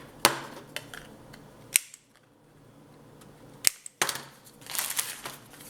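Sharp, crisp snaps from a corner punch rounding paper corners for scrapbooking, several separate clicks spaced out irregularly with light paper rustling between them, close and clear.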